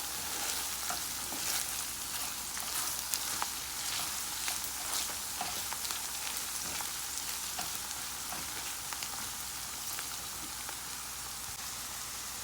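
Tomato paste stirred into bitter melon (karela) frying in a pan for a Guyanese vegetable dish, a steady loud sizzle with scraping spoon strokes throughout, no voices.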